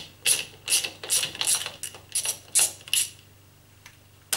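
A 10mm nut turned anti-clockwise with a ratchet on a Beko vented tumble dryer's fan blade, giving a run of about eight quick, close metallic clicks that fade out into near silence.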